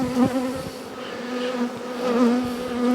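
Honey bees buzz around an open hive during a colony split, a close, continuous droning hum that swells and eases slightly.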